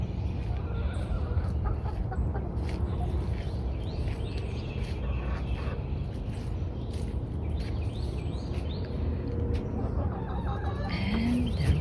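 Chickens in backyard coops clucking steadily with scattered rooster crows over a constant outdoor background hum, moderately close and continuous.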